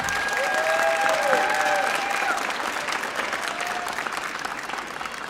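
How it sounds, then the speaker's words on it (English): Audience at a middle school clinic concert clapping together, a loud sustained wash of applause that slowly tapers off, with a few whoops rising above the clapping. "Let's give them a round of applause for their hard work and dedication this year."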